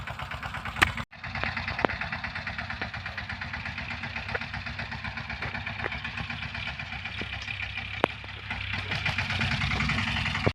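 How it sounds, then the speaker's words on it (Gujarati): A farm tractor engine runs steadily in a field, a continuous mid-pitched drone with a knocking pulse that grows slightly louder near the end, heard alone without talk. "આપણે બટુક આવે છે ટ્રેક્ટર લઈને, બેલાનું ટ્રેક્ટર લઈને."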